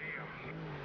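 A car accelerates in Need for Speed Rivals: a short, high engine whine sweeps over a steady low drone, close and fairly quiet, with a faint tyre squeal.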